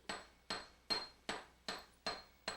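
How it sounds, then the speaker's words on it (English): Hammer blows on annealed copper strip laid over a threaded rod, struck with the flat face of the hammer on a folded sweatshirt: six sharp, evenly spaced metallic taps about every half second, close and alone. "Placing the copper strip over the threaded rod and hammering with the flat part of the hammer."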